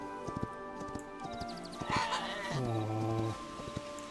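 Hooves clip-clop in uneven taps as horses move about in the video game Hytale, followed by a loud whinny in the middle.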